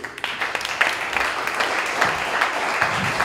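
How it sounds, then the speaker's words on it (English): Applause at an outdoor political rally in Freeport, Texas, with a crowd clapping in a brisk, scattered patter that swells to a steady wash, with faint voices mixed in. "Round of applause, please."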